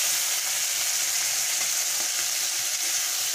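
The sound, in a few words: shrimp frying in oil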